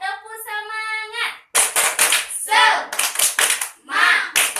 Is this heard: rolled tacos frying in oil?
no